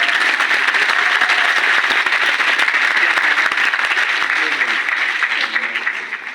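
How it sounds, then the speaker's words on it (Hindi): Seminar audience applauding indoors, a dense, steady wash of clapping from many hands that holds strong throughout and thins slightly at the end. "स्विट्जरलैंड के लिए तो इतनी तालियां बहुत हैं, क्या करना है।"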